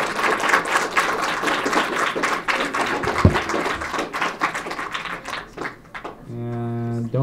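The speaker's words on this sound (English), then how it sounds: "let's give a round of applause for Ifdal" Audience at a student association congress gives a round of applause, a steady, dense clatter of clapping that thins out toward the end as a sustained musical tone and a voice come in.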